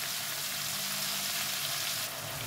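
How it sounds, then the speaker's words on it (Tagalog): Tomatoes frying in a pan as the base of a sauce for sarsiyado fish, a continuous close hiss of sizzling with no talking. "Antayin natin maluto ng gusto yung ating kamatis, yung pinaka-sauce natin."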